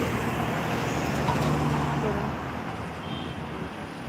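Continuous traffic on a busy main road at night, vehicles passing in a steady, fairly loud rumble with no clear breaks.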